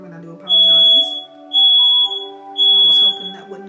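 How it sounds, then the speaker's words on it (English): Three loud, shrill electronic beeps from a smoke alarm, evenly spaced about a second apart, ringing out over a low background hum. "That is my smoke alarm"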